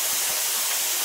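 Steam hisses steadily and loudly from the open vent of a pressure canner during canning of bone-in chicken thighs, a continuous bright rush with no break.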